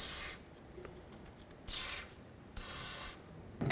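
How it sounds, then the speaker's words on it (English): Three sharp hissing bursts of an aerosol rust penetrant spray can, each lasting about half a second with short pauses between them, close by, while replacing a lower ball joint on a 2007-14 Chevy Silverado. "going to go ahead and spray it with some rust penetrant"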